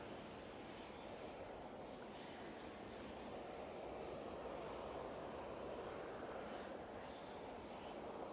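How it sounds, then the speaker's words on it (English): An Avianca Dreamliner airplane arrives at Ponta Delgada airport in the Azores, heard as a faint, distant, continuous jet roar with no breaks. "Looks like then another airplane is coming here."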